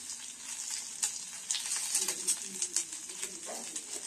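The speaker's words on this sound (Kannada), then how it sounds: "ಈಗ ಇದರಲ್ಲಿ ಪುದೀನ ಹಾಕ್ತಾ ಇದ್ದೇನೆ" Fresh mint leaves drop into a tablespoon of hot oil in a pan for village-style country chicken gravy, giving a soft, close sizzle broken by a few sharp crackles and pops.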